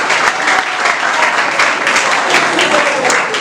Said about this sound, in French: Applaudissez Kader Fagila